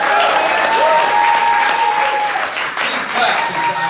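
Comedy club audience at a stand-up show breaking into loud, sustained applause that fills the room without letup, with a few voices and scattered cheers mixed into the clapping.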